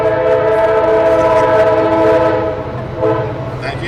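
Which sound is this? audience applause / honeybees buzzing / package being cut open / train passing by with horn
train passing by with horn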